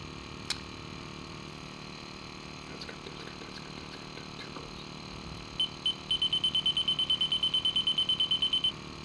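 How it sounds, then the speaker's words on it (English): An 8058 gas detector's pump hums steadily through its startup routine, joined near the end by a rapid run of short, evenly spaced electronic beeps. "Pump starts to run and it goes through its little startup routine"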